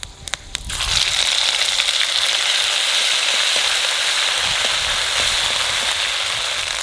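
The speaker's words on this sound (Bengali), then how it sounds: "তেলের পর দিয়ে দেবো জিরে আর তেজপাতা" Cumin seeds and bay leaves sizzle in hot oil, a sharp spatter at first settling into a steady, loud hiss that continues alone.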